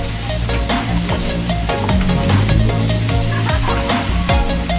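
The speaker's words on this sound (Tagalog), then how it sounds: "mainit na po yung kasirola natin. So guys, lagay po tayo ng margarine" Margarine sizzles loudly in a hot casserole pan, a dense crackling fry with rapid pops close by and a busy rattling texture throughout.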